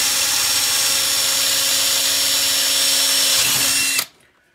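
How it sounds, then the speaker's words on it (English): A loud, continuous power drill with a 3/16 bit whirs steadily for about four seconds while drilling a hole, then winds down abruptly, leaving near silence. "I'm going to get a 3/16 bit and I'm going to drill a hole"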